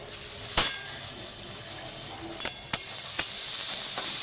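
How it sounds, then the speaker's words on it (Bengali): Flattened rice (chira) being stirred in a pan with salt and a little sugar, a steady close sizzle broken by a few sharp scraping clinks of the spatula against the pan. "এবার আমি চিড়েটাকে দিয়ে ভালো করে নেড়ে নেব।"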